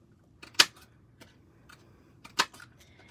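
A hot air balloon shaped paper punch clamps down on black paper, giving two sharp mechanical clacks about two seconds apart with small clicks around them, close and otherwise quiet.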